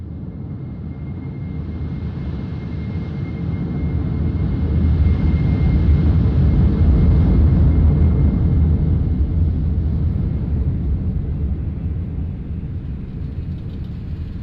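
Embraer E-175 airliner of LOT Polish Airlines rolling out after landing at Warsaw in Microsoft Flight Simulator: a steady, loud low engine rumble and roar that swells midway, then eases off as the jet decelerates, with no talking.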